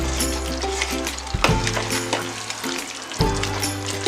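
Chicken varuval frying in a pan, a dense close sizzle with a low steady hum beneath and a few louder scraping stirs, continuous with no voice.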